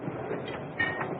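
Steady rumble and rattle of a train running on rails in 1972 Siberia, a continuous broadband clatter with faint rhythmic wheel accents, heard alone without talk.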